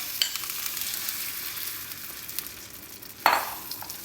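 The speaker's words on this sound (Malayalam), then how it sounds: "നന്നായിട്ട് പാൻ ചൂടാക്കിയിട്ട് കുറച്ച് ഓയിൽ ഇട്ട് കൊടുക്കുക" Batter spread in a hot oiled pan for bread pizza sizzles softly and steadily, with a sharper crackling burst near the end.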